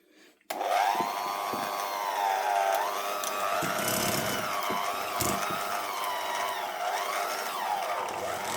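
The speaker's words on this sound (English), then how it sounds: "Then we'll whisk all that up." An electric whisk whirs continuously through cake batter of cream cheese, a steady motorized hum with wavering pitch as the beaters move around the bowl, starting abruptly after a brief quiet moment.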